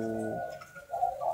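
Spotted doves coo in a short, clear burst of low, rounded notes, close and distinct, followed by softer chirpy calls with no talk over them.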